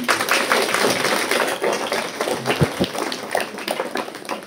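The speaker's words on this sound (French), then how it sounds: "Nous pouvons applaudir." An audience at a dinner-dance evening applauds, dense sustained clapping close and loud for several seconds before gradually thinning out.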